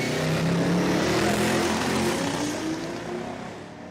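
Drag racing cars, a supercharged Mustang and a Toyota wagon, roar loudly at an Australian eighth-mile strip, a dense wide-band engine howl that swells and then eases slightly as it fades toward the end.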